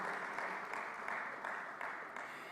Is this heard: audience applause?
yes